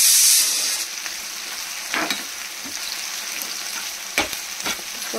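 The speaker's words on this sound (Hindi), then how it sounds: "तो ये आप देख सकते हैं मैंने प्याज डाल दिए हैं फ्राई करने के लिए" Onions fry in oil in a pan for mutton rogan josh, a loud close sizzle that hisses strongly at first, then settles, with a few scraping stirs, and nobody speaking.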